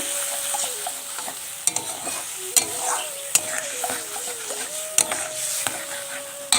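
Tamarind is stirred slowly in a pot, a spoon scraping and knocking against the sides in uneven strokes over a soft sizzle, with a faint wavering tone in the background.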